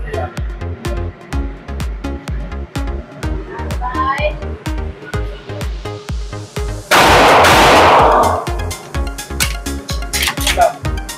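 Suppressed shots from a Girsan MC9 Extreme pistol: a run of sharp, regular reports ring out loud and close, with a burst of broadband noise midway and faint voices underneath.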